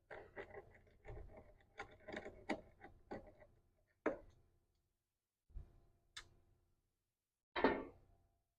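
A socket screwdriver loosening a nut on a Badger welder's terminal gives a sparse run of close, quiet mechanical clicks and ratcheting ticks, clustered at first, then separated by longer pauses.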